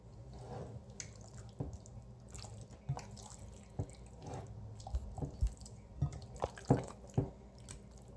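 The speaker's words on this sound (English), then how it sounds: "we're going to come back with a heavier spatula and just give it a good stir" Yogurt and spice marinade being stirred into steak with a heavy spatula: soft wet squelches and sticky slaps arrive in irregular bursts, growing louder and more frequent toward the end, close by with no talk.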